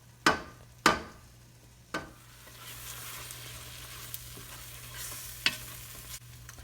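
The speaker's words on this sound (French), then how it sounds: "l'oignon, là, tout le sucre est là, puis il est en train de caraméliser vraiment en profondeur" Onions slowly caramelizing in a pan for French onion soup, a soft steady sizzle broken by several sharp scrapes and knocks of a spoon stirring, close and fairly quiet with no talk.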